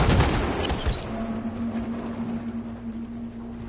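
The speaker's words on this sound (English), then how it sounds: "they're shooting at us" Rapid gunfire in the video game Detroit: Become Human crackles in a dense burst for about a second, then gives way to a low sustained hum with scattered faint noise.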